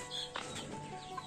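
Hens in a two-room local poultry house give brief, faint clucks and a small flutter, heard close but quietly over a short stretch.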